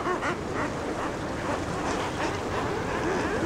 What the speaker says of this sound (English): the crashing of waves